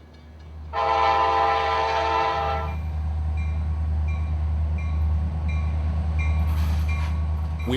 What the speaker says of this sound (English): Those loaded hoppers are complaining loudly about the turning radius.